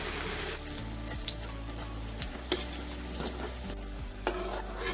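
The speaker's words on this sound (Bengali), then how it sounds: "এখন ভেজে নেব।" Jackfruit kofta patties, stuffed with paneer, sizzle steadily in hot oil, with occasional stirring clicks and small pops over a continuous close frying hiss.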